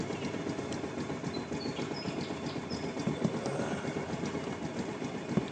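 A Kawasaki motorcycle engine runs just after a new battery goes in. It makes a steady idling putter with quick, regular ticking pulses and no voices over it.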